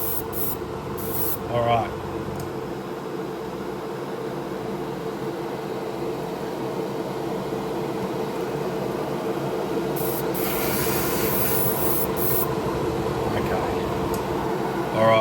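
An airbrush sprays pearl green paint on a Fatboy scale model, a steady close hiss running alone for most of the stretch, with a few brief words spoken near the end.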